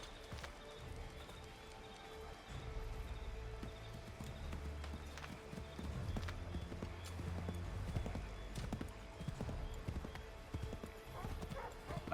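Horse hooves clip-clopping in Assassin's Creed III, a quick rhythmic trot of hoofbeats running under the game's background ambience, with a brief whinny.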